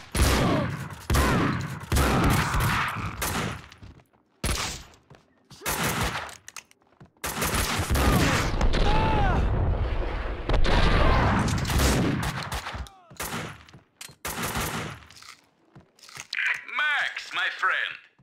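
Bursts of gunfire in the video game Max Payne 2, rapid automatic volleys and single shots in uneven clusters separated by short silences, loud and close, mixed with game sound effects.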